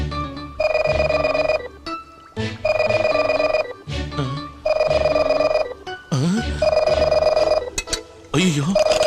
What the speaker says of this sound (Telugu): అయ్యో, లోపల నుంచి రింగ్ అవుతుంది.